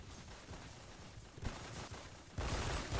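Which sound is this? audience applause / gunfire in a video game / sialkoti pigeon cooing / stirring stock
gunfire in a video game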